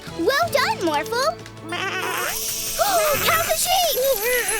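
Cartoon sheep bleat in a quick series of wavering, high-pitched calls on an animated farm, loud and close, mixed with playful music and animated character voices.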